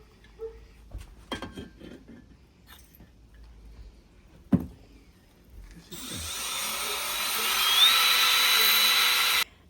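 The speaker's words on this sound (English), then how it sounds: "Just honing it out." A drill-driven hone works inside a 1948 Cadillac brake wheel cylinder housing, first with scattered handling clicks and knocks, then a loud steady whirring grind that runs continuously to the end.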